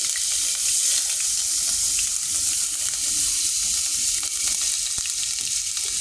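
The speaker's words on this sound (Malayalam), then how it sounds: "ഇഞ്ചി വെളുത്തുള്ളി പേസ്റ്റ് എല്ലാം സോട്ടായതിനു ശേഷം" Ginger garlic paste sautéing in hot coconut oil in a pan, giving a continuous loud hiss and sizzle with scattered crackles and no talking.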